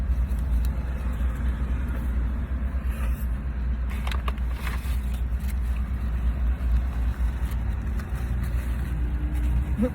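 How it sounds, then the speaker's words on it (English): A Dodge Ram rolls along the road close by, its low engine rumble holding steady and loud for the whole stretch against a constant traffic drone, with no voices. "there's a car that drove road in front of me, and it's a Dodge Ram"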